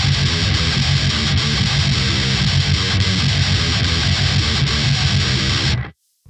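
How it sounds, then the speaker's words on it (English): Heavily distorted metal guitar riff played in an industrial style, with the fifth degree of the scale flattened, a loud, dense, continuous chugging run of notes that stops abruptly just before the end. "what I'm doing is I'm flattening that fifth degree of the scale that now sounds like this"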